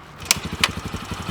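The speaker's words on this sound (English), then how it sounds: "we're going to fire the bike and warm it up" A cold motocross bike is kickstarted with the choke out and clutch pulled in, and its small engine settles into a fast, even, close putter, with two sharp clacks early on.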